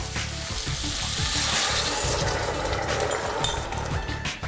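Beef, lardons and onion sizzle and fry steadily in a pan as stock is poured in, a continuous close crackling hiss with stirring scrapes, no talk.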